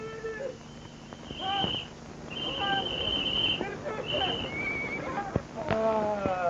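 A horse neighs and whinnies in a 1965 Turkmen feature film, with several rising and falling calls spread through the clip, close and fairly loud, over hoof clip-clops and overlapping shouting voices.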